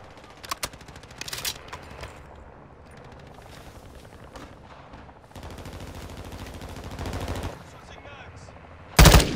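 Rapid automatic gunfire and sharp shots in Modern Warfare 2 played on Xbox Series X, loud and sustained in bursts, ending in a heavy close blast, with faint talk underneath.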